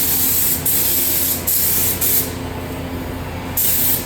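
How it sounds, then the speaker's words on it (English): PPG epoxy primer sprayed onto a John Deere 4430 tractor under restoration, loud continuous hissing bursts from the spray gun with short breaks between passes. "I really like this primer. It sprays nice and it's just good quality stuff."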